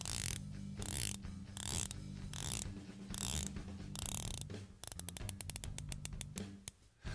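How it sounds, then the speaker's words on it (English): The unidirectional 120-click bezel of a 200m dive watch is turned in bursts of crisp ratcheting clicks. Quick click trains alternate with pauses, ending in a fast run of sharp ticks, quiet and very close. "I'll let you hear the bezel now."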